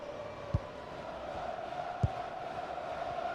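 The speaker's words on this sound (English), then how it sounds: "the crowd are certainly not happy" Unhappy stadium crowd in EA Sports FC 26 during an NWSL women's match between Bay FC and Racing Louisville FC: a steady, moderately loud crowd murmur with two brief low thumps standing out.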